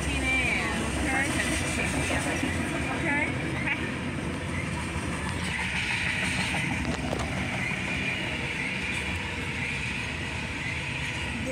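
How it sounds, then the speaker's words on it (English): Train rolling through the Whalen Rd crossing, a steady, continuous rumble and wheel clatter filling the whole stretch with a few squeals, heard close with people talking over it. "This is the 10 o'clock train."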